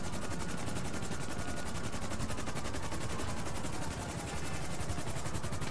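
Rapid machine-gun-style gunfire in Grand Theft Auto Online, heard from inside a helicopter, dense repeated shots blended with a constant loud rotor drone.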